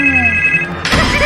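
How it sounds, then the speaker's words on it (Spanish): A telephone rings with a bright trilling bell tone, steady for a moment and then cut off by a burst of louder, noisier sound, close and fairly loud with no talk. "Pero de repente volvió a sonar el teléfono."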